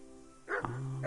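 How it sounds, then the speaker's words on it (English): A single sharp dog bark rings out in the video game Kingdom Come, close and brief, rising out of a quiet background ambience. "Shut up, dog."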